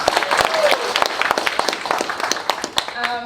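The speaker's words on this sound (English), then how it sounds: "Yay! Claps." Audience clapping and applause after a presentation on Virtual Drag at the SheMakes 2016 event, a dense, lively patter of many hands close by, with a voice speaking briefly near the end.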